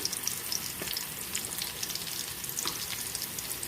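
Onions fry with turmeric in a pan for a ridge gourd curry, giving a dense, continuous hiss of sizzling oil with faint stirring scrapes mixed in, steady and close.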